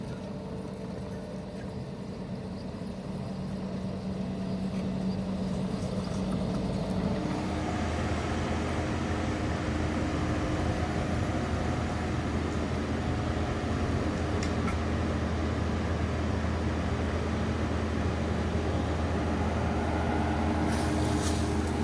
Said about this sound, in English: So the machine is doing a regen right now, which means she had to rev it way up